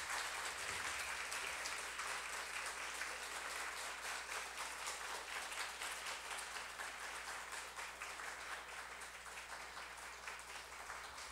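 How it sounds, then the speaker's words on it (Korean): An audience at a commemoration ceremony gives steady, sustained applause that continues evenly and fades slightly toward the end, with no talking. "Your warm applause, please."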